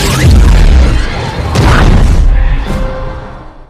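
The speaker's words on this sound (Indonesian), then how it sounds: "Mother box meledak." In Zack Snyder's Justice League, a Mother Box explodes with a deep, loud boom, followed by a second rumbling burst and a whooshing tail that fades out.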